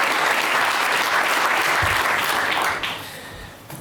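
A crowd of business leaders gives Javier Milei a loud ovation, dense clapping with scattered shouts that thins slightly toward the end.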